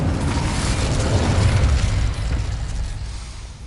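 An Incendio fire spell cast in the video game Hogwarts Legacy, a loud, close whooshing burst of flame that swells and then slowly fades.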